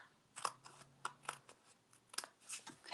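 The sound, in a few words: scissors cutting off a paper strip for a card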